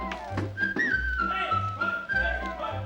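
Someone whistles a bright, wavering melody over steady music, with a few sliding notes held across the clip.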